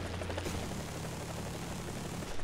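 A helicopter rotor spools up in the War Thunder video game, a steady, broadband whirring drone that holds at an even level throughout, fairly close.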